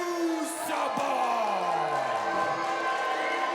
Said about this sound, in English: A very divided crowd here tonight at the Relevance Center.